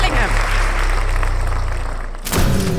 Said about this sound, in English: A big applause for the absolute best, the Golden Boy, Jude Bellingham